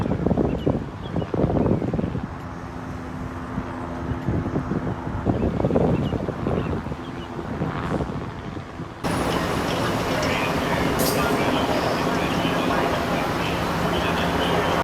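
Strong wind gusts buffet the side of a skyscraper, a loud roaring rush with heavy microphone buffeting that intensifies abruptly partway through, with muffled voices and distant traffic mixed in.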